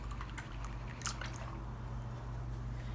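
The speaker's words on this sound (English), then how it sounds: "wash your brush out now" A paintbrush is rinsed in water during acrylic landscape painting, giving soft, close sloshing and dripping sounds that continue steadily and alone.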